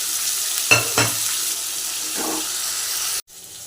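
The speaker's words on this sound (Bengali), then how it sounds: "কালো জিরে ফোড়ন দিচ্ছি আর পেঁয়াজ আর লঙ্কা দিয়ে দিচ্ছি" Black cumin seeds, onion and chilli hit hot oil for a pabda fish curry with aubergine, giving a steady broadband sizzle with a couple of sharp stirring knocks and spatters early on, then a clean cutoff near the end.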